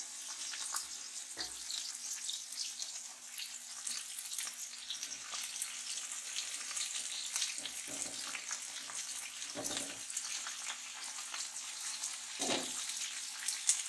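Okra (bhindi) fries in hot oil, a faint, steady, hissing sizzle heard from close by, with a few soft stirring scrapes now and then.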